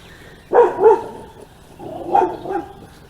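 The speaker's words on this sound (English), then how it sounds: "So this is my dog, Merlin." A farm dog barks twice in quick succession, pauses, then gives two more barks, close by in a quiet space.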